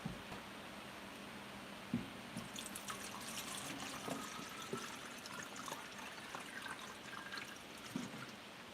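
Tap water running steadily into a sink at a breakfast routine, a continuous faint trickle and splash with occasional louder drips, heard alone without talk.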